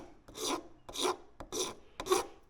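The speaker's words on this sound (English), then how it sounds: "holding your file at an angle, just go around the outside" A hand file rasps around the cut edge of a hacksawed metal fluid-bed cup to remove burrs, in four steady strokes about half a second apart, each a rough scraping burst, close and clear with no voices.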